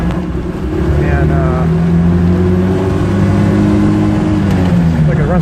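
A Honda N600 engine runs close by with a steady idle and slight rise in revs, its tone wavering unevenly with some sputtering, under wind noise.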